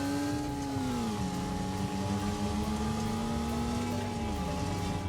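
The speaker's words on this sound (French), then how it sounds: "Ah, la voiture, elle fait un bruit." A car engine drones steadily in a racing video game, a constant tonal hum with a pitch that sags and recovers, heard alone at a moderate level with a noisy, rattling background.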